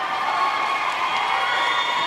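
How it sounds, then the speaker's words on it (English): Webster fans at a state girls basketball tournament game cheering in the stands, a loud sustained crowd roar with shouts and whoops rising over it, no clear speech. "Webster fans cheering their approval."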